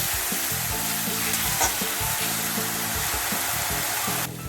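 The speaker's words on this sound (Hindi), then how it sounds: "ये डाल के इसी के साथ में अच्छी तरह भूनना है मसाला को।" Onion masala with ginger-garlic paste sizzling in a pan, a steady dense frying hiss close up, with a low repeating droning hum running beneath it the whole time.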